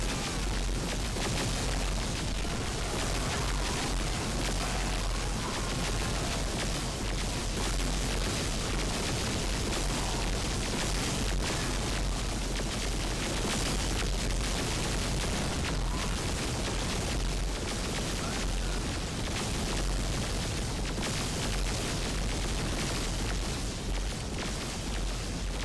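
Necron weapon shots and explosions in a Warhammer 40k game mod battle against Imperial Guardsmen, a dense continuous barrage of booms and blasts with no pauses.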